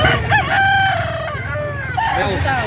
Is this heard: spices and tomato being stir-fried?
no